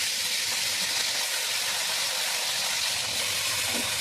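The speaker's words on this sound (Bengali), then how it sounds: "তেল গরম হয়ে গেছে, এবার লবণ হলুদ মাখানো মাছগুলোকে ছেড়ে দেবো।" Rui fish, rubbed with salt and turmeric, frying in hot oil in a wok: a steady, loud, broad hiss and sizzle that holds evenly throughout with no talking.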